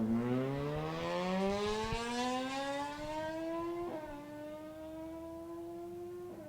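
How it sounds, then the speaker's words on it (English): A 2020 Kawasaki ZH2 motorcycle accelerates at a high-speed event, engine pitch climbing through gears with brief shift breaks, heard from a distance as a rising whine. "Up next, Joe Miller in his 2020 Kawasaki ZH2."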